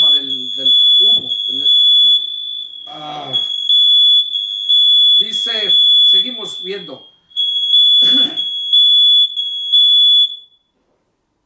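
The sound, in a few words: smoke alarm beeping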